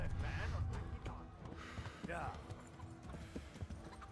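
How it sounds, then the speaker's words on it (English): Horse hooves clip-clop in a steady rhythm in the video game Kingdom Come, with a person talking over them and background game sounds. "Okay, I know how to ride a horse."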